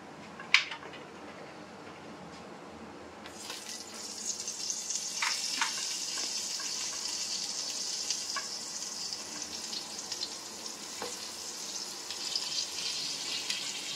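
Eggplant slices dropped into hot oil, a faint click followed by a steady, bright sizzle that swells and continues with a few soft scrapes, close and unaccompanied by speech.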